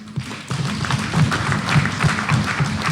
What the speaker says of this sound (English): To all of you who are present here today, just give yourselves a round of applause.